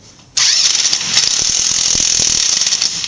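A wrench ratchets steadily while a front CV axle is being changed on a Subaru Forester, a loud, continuous clicking that starts abruptly and runs unbroken at close range with no talk.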